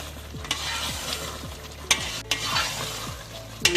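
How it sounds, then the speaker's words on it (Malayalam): Aravana payasam mixture stirred in a pan with steady, rhythmic scraping strokes about every half second, close and moderately loud, with a few sharper knocks against the pan and no voices. "നന്നായിട്ട് മിക്സ് ചെയ്ത് കൊടുത്തതിന് ശേഷം ഫ്ലെയിം ഓഫ് ചെയ്യുക."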